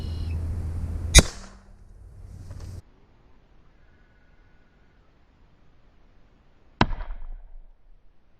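.22 Magnum rounds fired into ballistics gel: two sharp, loud gunshots about six seconds apart, each followed by a short ringing decay, with a faint background hum between them.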